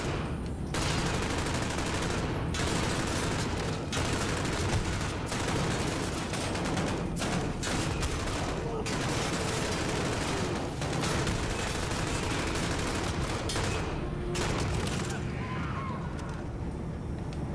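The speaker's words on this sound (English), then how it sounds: "Like the incendiary shotgun." An incendiary shotgun fires amid a loud, sustained firefight in Call of Duty: Modern Warfare (2019), with dense, overlapping gunshots and bursts pounding almost without pause, along with brief gaps and a faint voice near the end.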